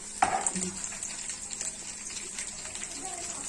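Okra and peanuts hitting hot oil with garlic paste in a pan, a sharp burst of sizzle at the start settling into steady frying hiss with light stirring, close up.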